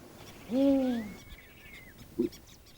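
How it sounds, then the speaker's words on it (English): A spotted eagle owl gives a loud, close, deep two-note hoot, followed after a pause by a shorter, fainter hoot against a quiet background. "The spotted eagle owl, slightly smaller but generally common."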